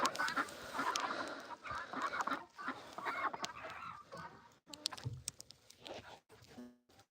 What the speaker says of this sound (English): See, the ducks do good in the snow.